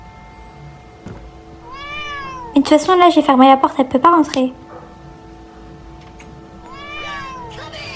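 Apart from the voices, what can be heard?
cat meowing in Roblox video game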